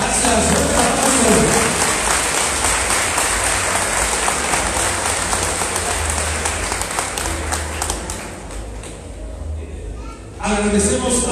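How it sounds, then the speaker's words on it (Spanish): Many people applaud at a municipal president's swearing-in ceremony in Tepeojuma, a loud, sustained wash of clapping that slowly tapers off before a speaking voice returns at the very end. "Un aplauso."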